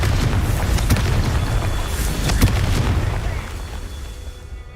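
A Confringo fire spell bursts in Hogwarts Legacy, a booming blast with crackling fiery pops and rumble that fades gradually, partly covered by a voice.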